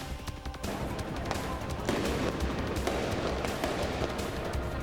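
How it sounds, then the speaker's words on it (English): Rapid cracks and pops of fireworks burst in dense, irregular volleys from a distance during street protests in Santa Ana, layered over a constant background roar. "And more fireworks in Santa Ana."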